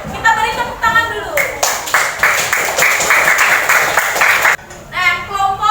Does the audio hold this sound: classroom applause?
yes